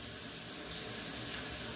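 A little water poured from a cup onto aubergine dolma as it cooks, a soft, steady splashing trickle heard close and fairly quiet.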